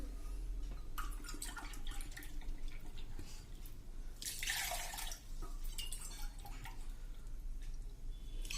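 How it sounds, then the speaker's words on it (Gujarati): Water poured from a cup into a bowl of gram flour and yogurt for khandvi batter, a steady close trickle and splash with a brief louder gush midway, alone without talk. "એ જ કપથી આપણે આમાં 2 કપ પાણી નાખી દેશું"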